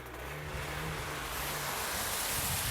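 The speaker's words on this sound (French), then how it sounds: "Une Mustang qui démarre." A Ford Mustang engine starting and settling into a rumble, a faint, steady low drone heard from a distance with a hiss of background noise and no talk.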